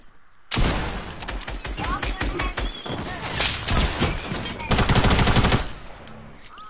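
Rapid video game gunfire bursts out and keeps going for several seconds, loud and dense, with a mix of sharp shots and building noises and some voices underneath.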